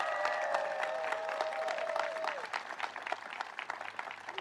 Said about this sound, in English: Please give our beloved governor another big round of applause.